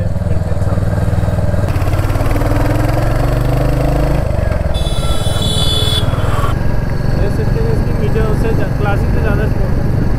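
A Royal Enfield Hunter 350 motorcycle engine idles nearby with a continuous low, even rumble, while voices talk over it the whole time.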